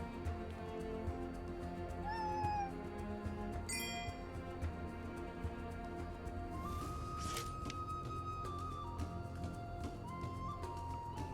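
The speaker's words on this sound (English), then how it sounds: "Finally get to hang out with the cats." Cats meow in the video game Another Eden, several short drawn-out mews scattered over a busy game soundtrack, with a chime and a swish partway through.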